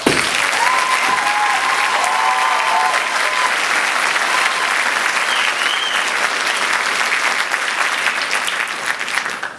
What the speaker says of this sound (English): Please give the cadre another round of applause.